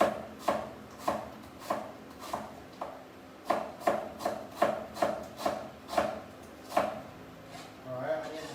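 A knife chopping onion on a cutting board: about a dozen crisp, evenly spaced thuds in a steady rhythm, close and clear, with brief pauses between runs of cuts.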